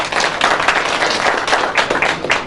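Audience applause at a Loncin Motorcycle Eid Milan party, dense clapping filling the room at steady loudness with a few sharper claps standing out.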